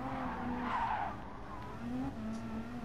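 Tires squealing as a car skids out of control in the racing game Gran Turismo 7, a drawn-out screech that fades and returns over a constant engine drone, with no speech.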